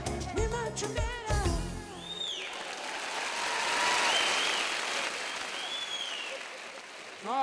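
Studio audience applause on a Georgian comedy TV show: loud voices and music open, then a long, even swell of clapping carries on, with faint tonal sounds drifting over it.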